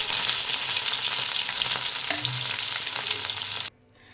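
Four pieces of lady finger fish frying in oil give a dense, continuous close sizzle with a few soft stirring touches, stopping abruptly near the end and leaving near silence.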